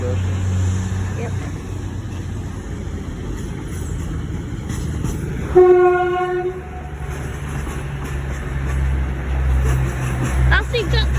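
A passenger train passes at a station platform, its loud rumbling wheels steady throughout, and a sustained horn blast sounds midway; people talk nearby.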